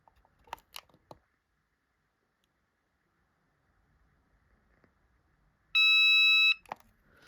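A cordless phone base being registered gives a single clear electronic beep, loud and close, after a few faint clicks and near silence.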